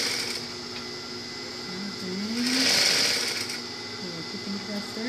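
Domestic sewing machine stitching fabric for an Elvis costume, a steady mechanical whir that swells louder mid-clip, with faint talk in the background.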